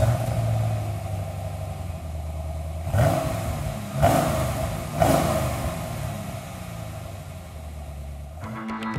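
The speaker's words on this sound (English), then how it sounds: "next we're going to go over to the Camaro and do some sound checks as it is today" A 2010-2013 Chevrolet Camaro on its stock exhaust idles with a steady low rumble, then three quick throttle blips rev the engine up and settle back to idle.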